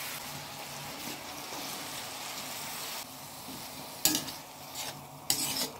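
Chopped banana heart sautéing with lechon meat for kare-kare, a steady close sizzle with scraping stirring strokes and sharper clatters of a utensil against the pan near the end, no talking.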